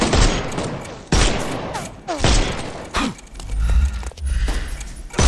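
Gunfire in the video game Sherlock Holmes Chapter One, several loud, close shots and bursts cracking out with sharp onsets and rumbling tails, separated by brief gaps, mixed with thuds and mechanical clatter.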